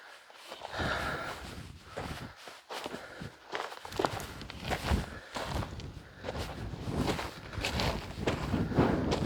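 Strong wind buffets the microphone near the Meradalir volcano in Iceland. It roars close and loud throughout with gusty surges, and rustling and footstep-like thumps mix into it.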